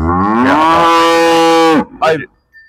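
A cow lets out one long, loud, close moo, followed by a brief grunt and a quiet snort.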